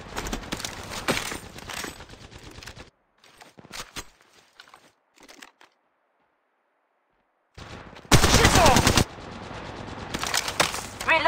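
Gunfire in the Apex Legends video game: rapid loud bursts of shots at the start, a quiet stretch with scattered faint footsteps and thuds, then another dense, harsh volley near the end.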